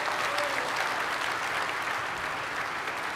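Sustained applause from a keynote audience fills the room, dense and even at close range, with no talk over it.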